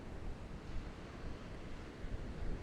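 Ocean waves washing onto a beach, a steady broadband roar of surf with gentle swells in intensity, moderately faint and continuous with no voices.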